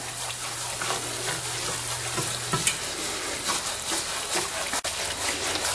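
A flour roux sizzles in hot oil for gumbo while it is stirred, with a steady close-up frying hiss and a few soft scrapes and clinks running throughout.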